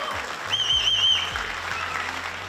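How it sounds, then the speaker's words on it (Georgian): An audience applauds steadily at a televised Georgian competition show, a dense clapping wash that swells slightly and then holds, with a bright whistling tone above it and a low musical backing beneath. "გავაცილოთ ვასო აპლოდისმენტებით"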